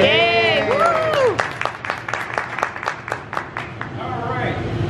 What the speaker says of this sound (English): So, a round of applause for Tim for that.